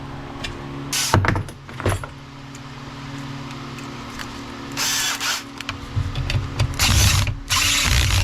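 A ratchet backs out the 8 mm exhaust bolts on a Stihl 029 Super chainsaw. Close, rapid pawl clicks come in several bursts, with a few knocks of the tool in between and no talk.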